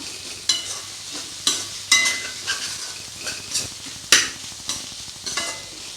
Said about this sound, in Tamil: தக்காளி எல்லாத்தையும் நல்லா மசிச்சிடலாம்